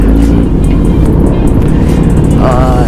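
Loud, dense engine rumble from motorcycles at a car meet at Deerfoot City, including a brand-new 900 bike, a close and continuous roar with no break.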